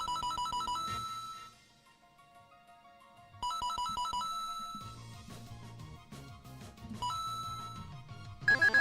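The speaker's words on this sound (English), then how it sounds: "That's a phone? Yeah, it's supposed to be a phone." A telephone ringtone plays in repeated melodic bursts of bright electronic tones with short pauses between them, faint overall, with a low rhythmic backing pattern under the later rings.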